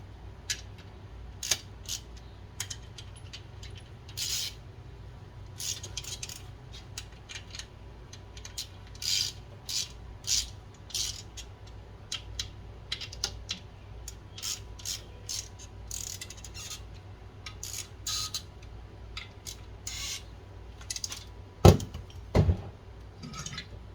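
Metallic clicks and ratcheting while a Ford alternator is bolted back together during a 2G to 3G upgrade, scattered sharp ticks over a quiet background with a few louder clanks near the end.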